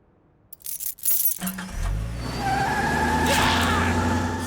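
Keys jingle and clink briefly up close, followed by a car engine starting and idling steadily.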